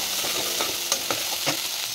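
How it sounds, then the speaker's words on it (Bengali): Spices and chilli powder frying in hot oil as they are stirred, a steady close sizzle broken by a few brief scraping strokes of the spoon through the pan, with no voices. "দিয়ে এবার ভালো করে কষবো যাতে তেলটা ছেড়ে আসে"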